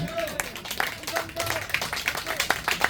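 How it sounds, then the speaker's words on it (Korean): Scattered handclaps from an audience at a lecture gathering, sounding as irregular sharp claps mixed with voices and speech throughout. "이런 점에서 진짜 박수 한번 치십시오."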